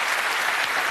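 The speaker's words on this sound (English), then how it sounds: "Give a round of applause." Studio audience applause on the British game show Bullseye, a brief, loud, dense burst of clapping with no voices over it.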